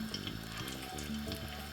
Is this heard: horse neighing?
no